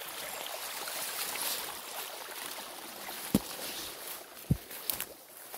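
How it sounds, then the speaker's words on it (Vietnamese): A stream flows around a farm plot in Đắk Nông, giving a soft, continuous rushing and trickling of water, close by, with a few sharp knocks and thumps near the end and no talking. "Bao quanh cái rầy của mình là suối chảy như thế này đây mọi người"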